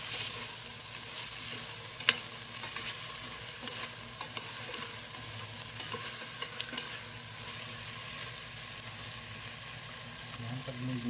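Chicken adobo with eggs being stirred in a frying pan, a continuous bright sizzle with scattered spoon scrapes and clicks throughout, fairly close and steady.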